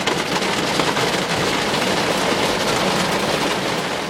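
Heavy rain pounds on the back of a vehicle during an extremely dangerous lightning storm in Cambridge City, Indiana, a loud, unbroken roar of drumming water that stays constant throughout, with no voices over it.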